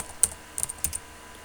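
Python code being typed on a computer keyboard: a few separate keystroke clusters, crisp clicks close to the mic, no voice.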